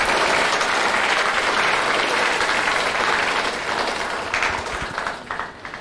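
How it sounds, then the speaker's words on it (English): An audience at an art exhibit session gives a sustained round of applause for Deb Jenkins, thick and even at first, then thinning into scattered individual claps toward the end. "please help me give her a round of applause to thank her for her efforts"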